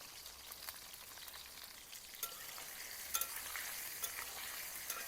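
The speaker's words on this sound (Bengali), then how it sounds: "এইবার বেশ একটু লালচে কালার করে ভেজে নেব।" Eggplant pieces dusted with turmeric frying in hot oil, a steady close sizzle with occasional stirring clicks and pops, no voices.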